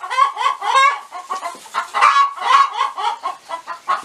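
Several chickens cluck close by in quick, overlapping bursts, with a few louder squawks rising above the busy chatter.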